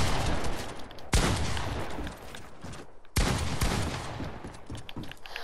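Rapid bursts of video game gunfire crackle in dense, loud volleys, with two sharp breaks between barrages over several seconds.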